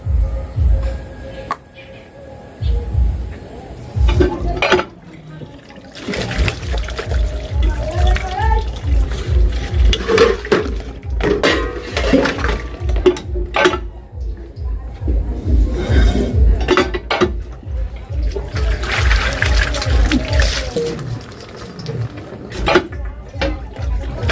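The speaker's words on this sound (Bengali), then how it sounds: "এবার সেগুলো সবগুলো সব মাজতে হলো। আর এই কড়াই টড়াইগুলো" Dishes, pots and woks are scrubbed and rinsed by hand with water, with repeated clanks and clinks of metal, scraping and splashing throughout, under frequent talk.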